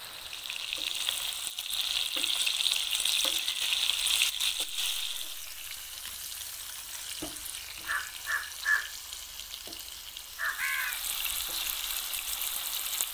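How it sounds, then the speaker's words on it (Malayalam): Small chicken pieces frying in hot oil in a pan for butter chicken, a continuous soft sizzle and crackle with a few light clinks and stirring sounds, no talk. "എണ്ണയൊന്ന് ചൂടായി കഴിഞ്ഞാൽ ചിക്കൻ പതുക്കെ അതിലേക്ക് പെറുക്കിയിടുക."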